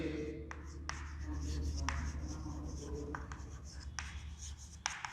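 Handwritten maths working for a class-7 lesson, heard as a pen or chalk scratching in short strokes with sharp taps between them, close by and fairly quiet over a low hum.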